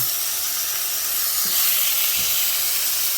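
Pot roast meat searing in a pan, a loud continuous hiss and sizzle close up, with a couple of soft thumps as the meat shifts; no talking.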